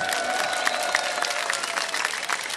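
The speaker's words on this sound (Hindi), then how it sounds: "और ARY न्यूज के लिए भरपूर तालियां।" A live audience applauds the ARY News team during Punjab election results coverage; dense, steady clapping fills the whole stretch at an even loudness, with a faint murmur of crowd voices underneath.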